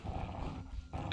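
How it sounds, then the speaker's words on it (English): A dog in the horror video game Inside The Backrooms lets out a low, rough growl lasting about a second, close and fairly loud, with a short dip in the middle before it resumes. "The dog's down there."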